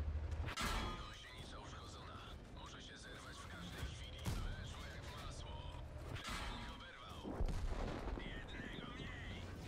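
Booming tank cannon blasts and explosion crashes from the game World of Tanks, firing from a Bat.-Châtillon 25 t, repeat under ongoing game effects, with a sharp loud shot near the start and more impacts later.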